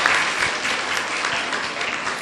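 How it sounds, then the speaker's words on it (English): A seminar audience gives a round of applause, with dense, steady clapping that holds for the whole stretch and does not fade. "let's give ourselves a round of applause"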